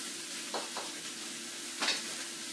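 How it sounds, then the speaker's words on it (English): Cabbage and bacon sizzle softly in a pan with a steady low crackle, while a utensil stirs them briefly a couple of times. "frying up some cabbage with some bacon or sausage"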